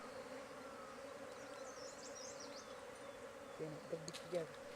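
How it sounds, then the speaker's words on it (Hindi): Honeybees being gathered into a basket on a hillside farm make a continuous low buzzing hum, fairly faint beneath outdoor background noise, with a few brief knocks near the end. "मैंने कैसे मधुमक्खियों को डलिया में रखा"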